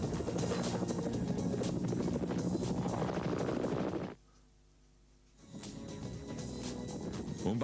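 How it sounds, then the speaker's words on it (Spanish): A rescue helicopter flies with a loud, throbbing rotor and engine roar. The noise cuts away briefly to near silence, then returns a little quieter. "Un papel similar tienen los helicópteros Alouette 3 y el Écureuil de la Gendarmería francesa"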